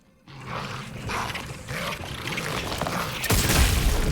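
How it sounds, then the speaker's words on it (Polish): Enemies bursting apart in The Callisto Protocol, a heavy roaring blast that swells and holds, then a deeper, louder boom near the end, with no talking. "One wybuchają jakoś dziwnie"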